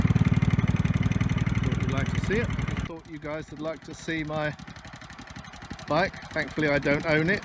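A motorcycle engine idles loudly and steadily for about three seconds, then cuts off abruptly, and a voice talks over the quieter remainder.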